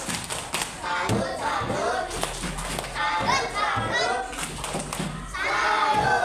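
Schoolchildren in a classroom perform a rhythmic salute clap, clusters of claps and table thuds repeating in a patterned beat, with children's chatter and voices running underneath throughout.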